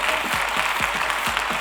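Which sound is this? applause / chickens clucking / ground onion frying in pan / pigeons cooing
applause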